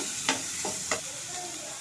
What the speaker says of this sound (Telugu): ఇప్పుడు కొంచెం అల్లం వెల్లుల్లిపాయ పేస్ట్ వేసుకుంటానండి